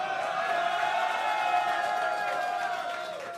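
A crowd at a StarCraft 2 tournament roars and cheers in a sustained, dense wash of voices, steady and fairly loud before easing off slightly at the end.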